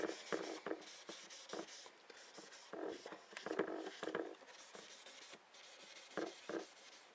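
Tissue rubbing and polishing the body of an Epiphone SE electric guitar, in short bursts of brisk, close squeaky friction separated by brief pauses, with no talking.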